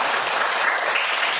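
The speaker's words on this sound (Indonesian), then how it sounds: "Tepuk tangan untuk si Piti" Dense, even clapping from a group fills the room for a child at a church children's gathering, steady and close, without a break or any talking.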